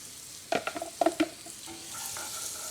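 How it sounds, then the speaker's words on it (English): Onions, turkey bacon and garlic sautéing in a pan: a few quick clattering stirs of a utensil against the pan, then a steady soft sizzle carrying on alone. "So we're just gonna saute up the onions, the turkey bacon, and the garlic for just a little bit"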